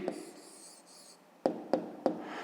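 Pen writing down a maths answer on paper: a soft scratchy scribble at first, then three short crisp taps or strokes close to the microphone, quiet and without speech.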